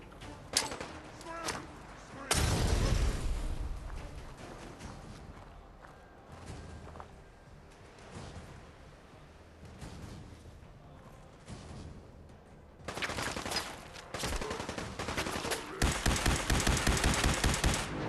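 Gunfire in the video game Fallout 4 comes in loud bursts of rapid shots at the start and again toward the end, with quieter scattered shots and movement between them.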